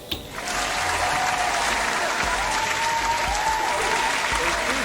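An audience at a rapid chess tournament applauds the winner with steady, full clapping that starts after a brief quiet moment and keeps going evenly. No voices come through.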